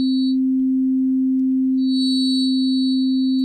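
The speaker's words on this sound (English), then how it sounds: "that's frequency modulation, and that creates really interesting kind of bell tone harmonics" Steady frequency-modulated sine tone from a Native Instruments Massive synth patch, a pure sustained pitch with faint bell-like upper partials shifting midway, held alone without talk.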